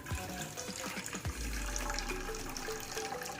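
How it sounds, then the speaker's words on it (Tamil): Water running from a tap into a cooking pot, a steady continuous pour that swells after an initial burst of clatter, close and fairly loud, with no voices. "அதில் தேவைக்கேற்ப தண்ணி ஊற்றிக்கலாம்."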